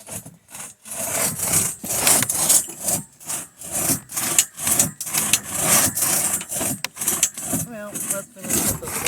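A small crosscut saw works through wood in quick rhythmic push-pull strokes, each stroke a loud raspy burst separated by brief gaps, close by and steady throughout.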